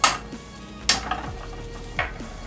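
Button mushrooms with oregano, basil and garlic cooking in oil in a pan, with soft sizzling under several sharp clinks and scrapes of a utensil against the pan, all close by.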